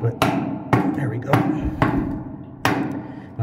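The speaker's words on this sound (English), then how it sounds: "And we can use the hammer if needed." Hammer strikes tapping a septic tank outlet baffle into place, five sharp, fairly loud knocks spaced unevenly about half a second to a second apart.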